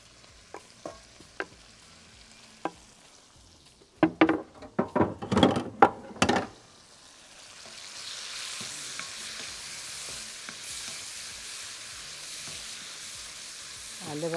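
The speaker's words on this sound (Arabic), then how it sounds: "نزل السجق يكمل بقى دبلان البصل ويسوي ايه؟ والسجق يستوي" Sausage and onions in a pan: a few light taps, then a burst of loud knocks and scrapes as food is tipped in and stirred, followed by a rising, steady sizzle of frying.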